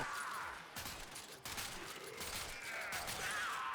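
Zylok Prime pistol in Warframe fired until the magazine is empty, a rapid dense burst of game gunshots running continuously for a few seconds, loud and close with no talking.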